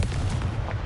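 The Confringo blasting spell detonates in Hogwarts Legacy on PlayStation, a short, dense, booming explosion with a rumbling low end that fills the whole moment.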